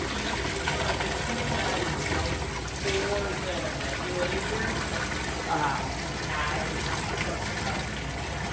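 Water steadily draining out of a 75 gallon planted aquarium, a continuous splashing gush that runs the whole time, close and fairly loud, with faint background sounds over it.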